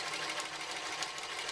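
A sewing machine runs steadily in one continuous burst, stitching a straight line through two layers of fabric, fairly quiet and close, with no talking.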